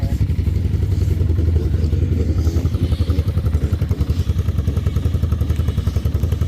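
A pit bike engine idles at a race event after quick tuning, a loud, steady, rapid low putter close by that runs without a break.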